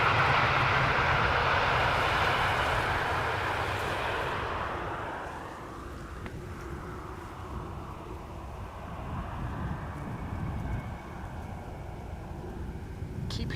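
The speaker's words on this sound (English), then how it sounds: "Keep hearing airplanes pass overhead" Airplanes at Amsterdam Schiphol's Polderbaan runway pass overhead as a loud, broad jet roar that slowly fades over several seconds, leaving a quieter, steady rumble with wind noise.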